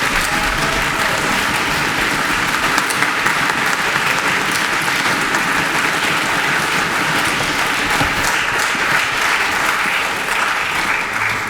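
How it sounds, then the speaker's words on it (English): Continuous applause from the audience at a school spring orchestra concert, a thick, even roar of many hands clapping that stays loud and steady for over eleven seconds with no speech. "Let's give them all a round of applause for 3 years of service."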